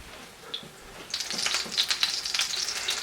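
Breaded chicken cutlet frying in a pan for chicken parmesan, a steady crackling sizzle with pops that grows louder and busier after the first second.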